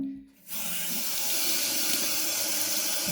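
Water gushing from the tap of an outdoor sink in Zaporizhzhia oblast, starting abruptly after a short quiet moment and then running as a steady, loud, broadband hiss until the end.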